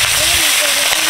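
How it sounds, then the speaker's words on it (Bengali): Boal fish fries in hot oil with a brief burst of sharp crackling and spattering, close by, with a voice briefly audible over the sizzle. "ভাজছে, ডুব ডুব করে ভাজছে,"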